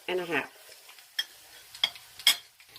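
Chicken flautas frying in a pan of oil, with faint intermittent crackles and a few sharp pops over a quiet background.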